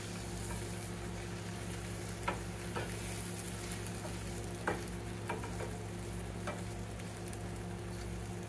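Sausages frying in a pan give off a steady, quiet crackling sizzle with a few sharp pops, close by and faint, with no one speaking.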